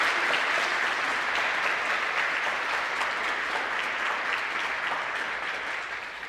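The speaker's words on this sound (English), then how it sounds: "Please give our panelists a big round of applause." An audience at an award ceremony applauds panelists with sustained, even clapping that stays loud and steady for several seconds, then slowly fades slightly toward the end.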